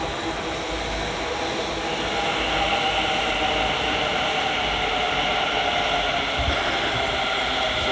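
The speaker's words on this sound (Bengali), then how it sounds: "ওই যে দেখতে পাচ্ছ ওই পাশ দিয়ে একটা মেট্রো যাচ্ছে" A metro train rumbles past nearby, a loud, steady roar of wheels and motors that holds for several seconds.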